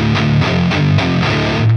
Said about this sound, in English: Palm muting sounds like this.